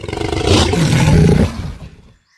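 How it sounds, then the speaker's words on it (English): A tiger gives a deep, rumbling growl that swells into a loud, throaty roar close up, holds for over a second, then fades out into silence. "she was startled to hear the deep growl of the tiger close beside her."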